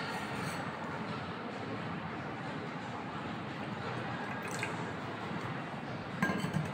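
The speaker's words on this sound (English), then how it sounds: "Now, hot water in the second container." Hot water poured from a kettle into a container for a freezing experiment, a steady close broadband rush of liquid filling with faint glassy clinks near the end.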